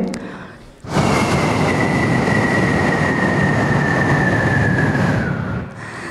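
A beatboxer's voice mimics a landing airplane: a loud, breathy jet roar with a steady whine that slowly falls away over about five seconds.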